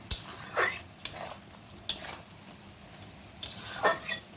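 A spoon scraping and stirring poppy seed paste in a frying pan, several separate metallic scrapes and clinks spaced irregularly over a faint sizzle, up close, with no one talking.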